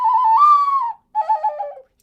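A whistle toots a sustained tone, then a short wavering series of notes, a tuneful call mimicking a bird.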